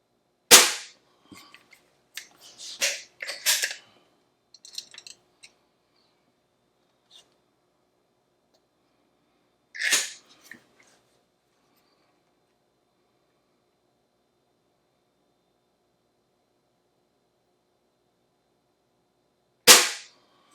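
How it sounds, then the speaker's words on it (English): Umarex Trevox air pistol fired with RWS Diabolo wadcutter pellets on a 10 meter range: three sharp, loud cracks spaced far apart, with quieter clicks and handling noises between shots in an otherwise silent setting. "I like shooting these RWS Diabolos, these wad cutters."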